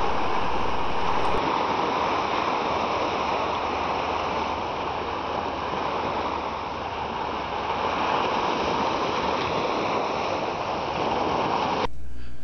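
Steady, loud ocean surf washes continuously along the beach at Point Dume, a dense broadband roar of breaking waves heard up close with no talking.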